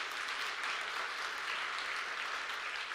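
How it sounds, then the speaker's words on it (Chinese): A church congregation applauds their pastor during a Sunday worship service, a dense, steady wash of clapping from many hands that fills the room evenly for the whole stretch without a break. "我们再次热烈掌声谢谢刘牧师。"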